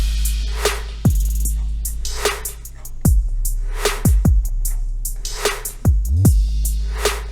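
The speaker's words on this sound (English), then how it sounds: "So the drums sound like this when you put them all together." Festival trap drum pattern programmed in Ableton Live 12, with layered snares and a crash: deep booming kicks with sliding low tails punch between sharp snare and hi-hat hits in a driving, syncopated groove.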